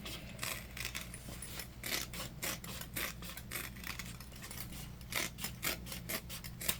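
Scissors snip through leftover fabric trimmed from a waist pack during sewing, a string of quick close cuts and rustles at a steady uneven rhythm, with no voices.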